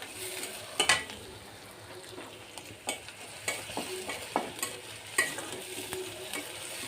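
Onions lightly frying in a pan while being stirred, with a steady soft sizzle under sharp scraping clicks of the spatula at irregular intervals, close and fairly quiet; a ridged gourd fry is being made.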